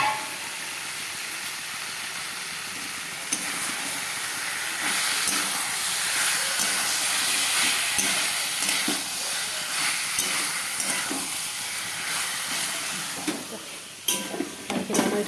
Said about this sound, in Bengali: মাংসটা দিয়ে দিলে এখন মাংস দিয়ে ভালো করে কষাবে।